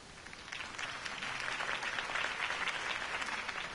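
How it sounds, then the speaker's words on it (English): Crowd applause at a campaign speech in the video game Batman: The Telltale Series, a quiet, distant wash of many hands clapping that builds over the first second and then holds steady. "If only Mr. Wayne, my campaign's largest backer, could have heard that applause"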